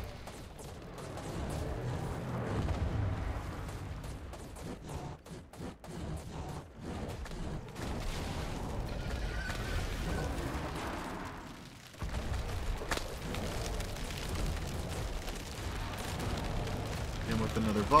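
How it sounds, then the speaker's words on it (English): Rocket volleys explode repeatedly in Ark Survival Evolved during a fight against the Ice Titan, a dense, continuous rumble of booms and blasts with someone talking over it. "Oh, I just hit myself with my own rockets."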